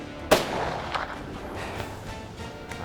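A single sharp rifle shot cracks out at a bull elk standing broadside during a Colorado hunt, a loud close report followed by a short rolling echo across open country.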